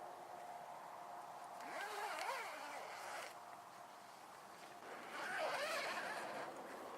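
A zipper on a hammock's waterproof rain roof is drawn in two separate pulls, each a scratchy rasp of about a second and a half, close and moderately loud over a steady background hiss.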